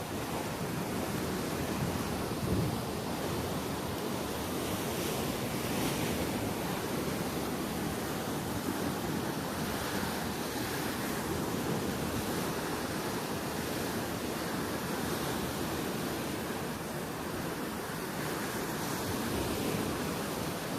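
Rough sea waves break at the Jeddah seashore near a mosque, a constant broad roaring wash that stays loud and steady throughout, mixed with wind buffeting the microphone and no speech.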